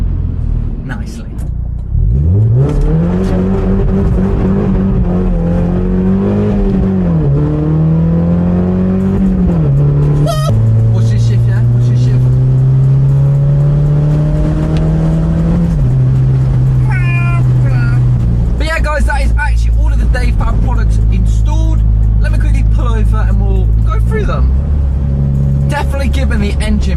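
A Mazda MX-5's engine starts, revs up, and drives off, the engine note rising and shifting through gears, loud and close, with rumbling road noise throughout.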